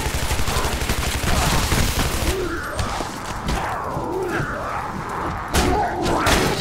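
Gunfire blasting at barrels in the Shadow Warrior video game, a dense run of loud thudding shots for the first two seconds, then scattered impacts and booms, with someone talking over the action.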